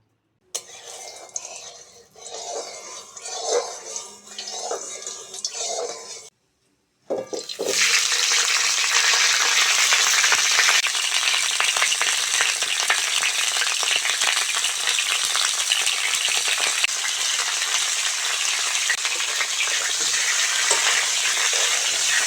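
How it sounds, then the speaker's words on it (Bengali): Cauliflower frying in a pan for vegetable khichdi, a loud dense sizzle that bursts in after quieter stirring noises and a brief pause, then roars on steadily and close for a long stretch with no talk. "প্রথমে ফুলকপিটা ভেজে নেবো"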